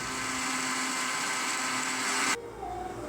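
A blender whirs loudly as it mixes an apple and peanut milkshake with ice and milk, a steady high motor drone that cuts off abruptly near the end, leaving a quieter background.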